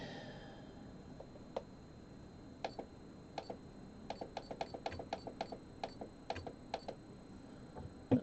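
A sewing machine stitches a wider satin stitch in a quilting session, producing quiet rapid ticking bursts in an uneven rhythm, close and faint against a soft background hum.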